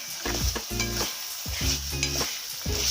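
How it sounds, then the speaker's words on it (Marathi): Peas and potatoes sautéed in masala in a pan: a continuous sizzle broken by repeated scraping strokes of a spoon, roughly every half second, close and loud with no talking. "आता आपण हे सर्व आपल्या मसाल्यामध्ये घालून घ्यायचे व परतून घ्यायचे."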